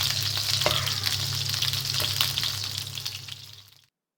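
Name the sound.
frying cheese chicken drumsticks on medium heat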